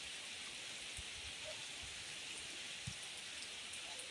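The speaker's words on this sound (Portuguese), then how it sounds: "Parece que a chuva vem grossa." Steady rain falls over countryside in the Serra do Tanque hills of the Brazilian sertão, a dense, even hiss throughout with a few soft low thumps of heavier drops nearby.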